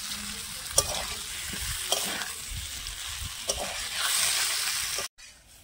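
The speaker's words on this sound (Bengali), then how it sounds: "মশলাটার সাথে 3-4 মিনিট ভালোভাবে কষিয়ে নিয়েছি।" Jackfruit curry is sautéed with spice paste in a pan: a continuous close sizzle broken by a few sharp scraping stirs, swelling briefly louder before cutting off near the end, with no talking.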